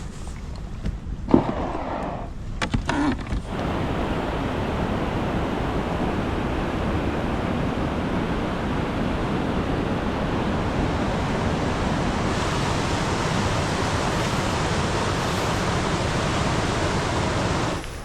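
Roaring waterfall rapids on the Piteälven river in Lapland, a steady, dense rush of whitewater that fills the whole clip without pause, with a brief louder disturbance near the start.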